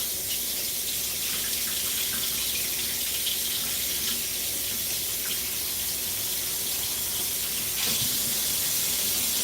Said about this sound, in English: now we need 3/4 of a cup of warm water